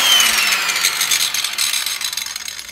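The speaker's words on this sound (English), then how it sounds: "That's a grinder. This is DeWalt." DeWalt angle grinder running in a sculpture workshop, used to cut bronze castings, giving a loud, continuous high-pitched whine with a slight rattle as it winds down a little toward the end.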